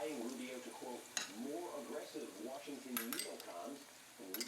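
Garlic, onion and freshly grated ginger sautéing in a pan, stirred constantly, with a soft sizzle and occasional utensil clinks against the pan under steady nearby talking.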